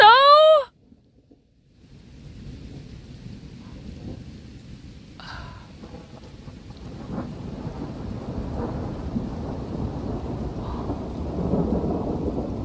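A thunderstorm with deep, rolling thunder and rain that builds steadily into a dense patter, after a short high-pitched call at the very start, with no one speaking.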